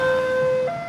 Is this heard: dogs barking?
no